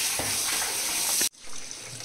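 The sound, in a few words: water draining from washed soaked chana dal in strainer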